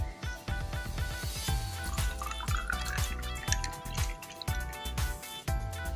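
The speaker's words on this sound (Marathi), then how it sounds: "हे मिक्सचर आपण ग्लासामध्ये ओतूया." A lemon juice mixture with sabja seeds poured into a glass, giving close, bright dripping and splashing with rapid repeated drops and a rising fill, no talk over it.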